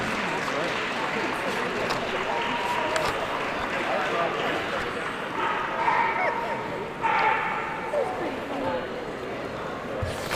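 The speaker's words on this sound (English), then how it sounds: "Very active little dog, is from the sounds of it." A small, very active show dog at a herding group dog show gives repeated yips and barks under an announcer's voice and a constant hum of crowd noise.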